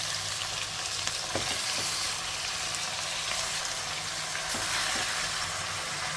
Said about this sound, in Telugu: ఇప్పుడు ఈ చికెన్ని హై ఫ్లేమ్లో ఒక 5 నిమిషాలు ఇలా కలుపుకుంటూ ఫ్రై చేసేసుకోవాలి.